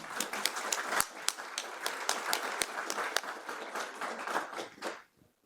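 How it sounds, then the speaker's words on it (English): Conference audience at a pension reform event in Warsaw applauds with distinct individual claps, moderately near, fading out near the end. "So here come the applause."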